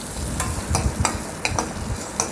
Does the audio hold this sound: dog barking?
no